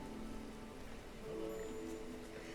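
Drizzling rain in the video game Against the Storm, a soft continuous patter with faint scattered drops, steady and fairly quiet with no talk over it.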